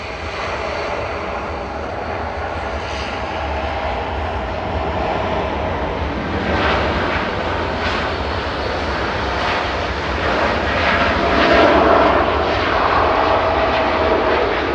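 A Qatar Airways heavy jet airliner comes in to land at Manchester Airport, a sustained engine roar that swells gradually and peaks loud toward the end, with no talk over it.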